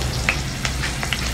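Ivy gourd (dondakaya) frying in a hot pan with garlic, giving a steady close sizzle with a few brief stirring scrapes and pops and no talking.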